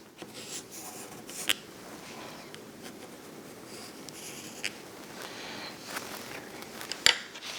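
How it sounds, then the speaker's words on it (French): A pencil traces two circles on paper around a bottle cap used as a template, a faint soft scratching with a few sharper taps. It is quiet and close, with no talking. "Avec un crayon, je vais venir dans le papier faire 2 cercles."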